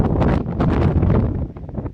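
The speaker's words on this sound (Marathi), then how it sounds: "इथे खूप असं वारा आहे नाही" Strong wind buffets the microphone outdoors on a trip around Raigad and Lonavala, a loud, continuous, gusting roar that fills the whole clip with no voices.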